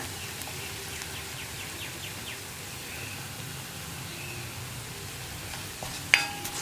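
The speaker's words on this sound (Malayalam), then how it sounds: "മല്ലിപ്പൊടിയും ചേർത്തിട്ട് വീണ്ടും ഒരു അരമിനിറ്റ് ഒന്ന് ഇളക്കി കൊടുക്കുക" Coriander powder is stirred into oil in a pan for a cooking curry of chena masala, giving a soft, steady sizzle with faint scraping, and one sharp clink near the end.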